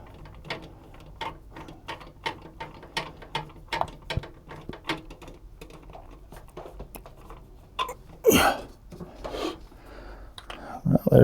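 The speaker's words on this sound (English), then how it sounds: "Let's get our trusty screwdriver. Let's go ahead and put our screws back in here." A screwdriver drives screws back into a gaming PC case, making a close series of quick ratcheting clicks and turns in short bursts, with a few louder knocks of metal near the end.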